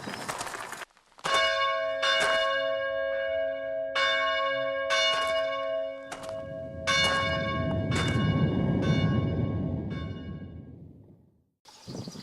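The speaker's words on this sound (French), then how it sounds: "Les cloches ont sonné." Church bells ring loudly in a series of resonant strikes, their tones overlapping and lingering, with a rushing background swell near the end.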